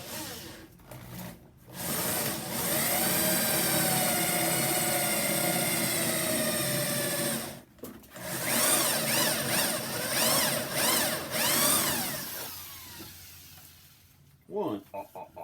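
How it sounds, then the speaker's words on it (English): Jigsaw cutting a jack-o-lantern face out of a wooden board, a loud, steady buzzing whine in long runs, broken by brief pauses and shorter bursts as the blade changes direction. "I'm going to use a jigsaw to cut it out."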